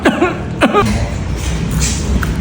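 Two close, harsh coughs in quick succession near the start, followed by a steady background hum.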